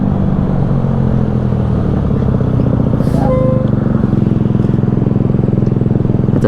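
Motorcycle engine with a suspected leak or sticking throttle cable, running loud and close with a rough, rapid pulsing rumble and crackling pops throughout.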